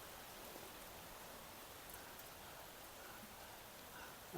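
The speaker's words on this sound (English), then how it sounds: "I hadn't planned on this rain." Rain falls steadily during a walk through a garden of blooming orchids, an even, soft hiss of drops that continues unbroken for several seconds with no voices.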